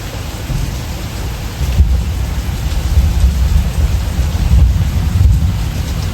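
Low, rolling thunder rumbles steadily beneath the continuous hiss of heavy rain, swelling and fading over several seconds.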